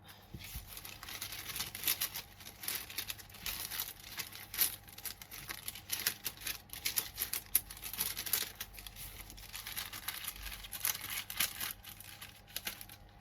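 Divination cards shuffled by hand during a card reading: a quiet, steady stream of soft papery riffling, flicking and crinkling that runs for about thirteen seconds, close up, with no voices.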